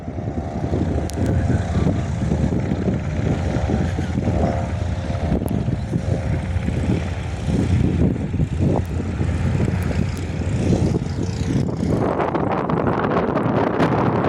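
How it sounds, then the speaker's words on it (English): Royal Flying Doctor Service Pilatus PC-12 turboprop departing Jandakot airport on a windy day, a sustained engine drone and propeller roar heard from a distance under heavy wind buffeting on the microphone, swelling toward the end. "RFDS PC-12 is now departing Jandakot."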